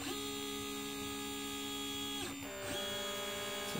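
A DIY Liteplacer pick and place machine changing nozzles, with steady motor whine tones that cut off briefly, then resume at a shifted pitch, faint and close.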